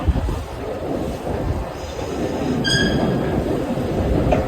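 Kyiv metro subway train running, a steady loud rumble of wheels on rail with a brief high squeal of wheels partway through, continuous and close throughout.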